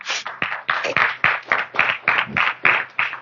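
A church congregation claps in unison, producing about a dozen sharp, evenly spaced beats at a brisk steady tempo. The claps are loud and close, with no talking over them.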